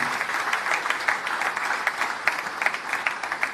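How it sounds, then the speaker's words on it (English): Audience applause at a ceremony honoring a Chief Minister, steady crisp clapping from a sizable crowd at moderate loudness, continuous and unbroken with no voices. "I think he deserves a big applause for that, ladies and gentlemen"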